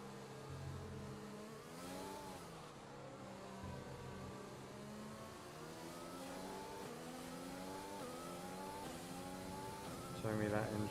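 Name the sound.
race car engine from F1 2020 video game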